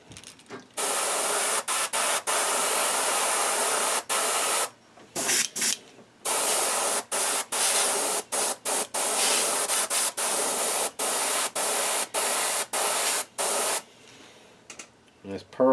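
An airbrush sprays pearl gold paint onto a cutthroat trout fishing lure in sharp, close hissing bursts, some long and some short, separated by abrupt silences, with a voice speaking near the end.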